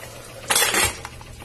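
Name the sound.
putting the lid on a pressure cooker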